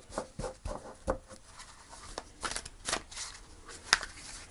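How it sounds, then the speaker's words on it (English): Tarot cards are shuffled and pulled, giving soft irregular flicks, slaps and rustles of card stock close by, with a sharper tap near the end. "Let's pull some cards."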